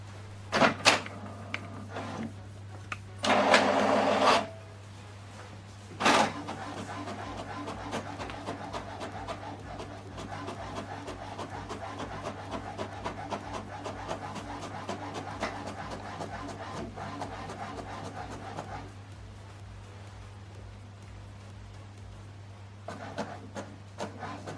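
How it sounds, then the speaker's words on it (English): An HP DeskJet printer running off a page, with whirring mechanical passes, a couple of louder bursts of paper feed near the start, and a steady low hum throughout, close by and with no talking. "So this is the document we printed out."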